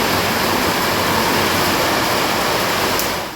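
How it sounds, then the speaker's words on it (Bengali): Rainwater pours steadily down through a gap during heavy flooding, a loud, dense, continuous rushing hiss heard up close without pauses or voices. "এই ফাঁকটা দিয়ে পুরো জল আসে গড়ি গড়ি একদম নিচে চলে যায় জলটা পুরো"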